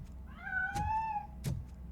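A cat meows once in the video game RoboCop: Rogue City, a clear rising-falling cry followed by two dull thuds, close and alone against a quiet background.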